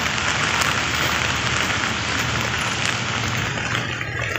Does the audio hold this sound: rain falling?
yes